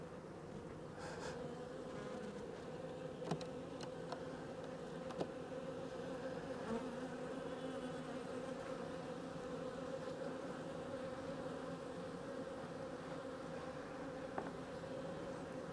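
Honeybees in an open hive during brood management, a dense steady drone of many wings humming close by for the full length, with a few faint clicks and knocks from handling the frames; no voices.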